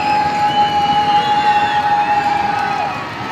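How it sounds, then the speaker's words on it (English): A huge crowd at a baseball stadium cheers and roars steadily throughout, a broad loud wash of voices with a sustained high whistle-like tone running through most of it. "And we're urging this huge crowd to get loud."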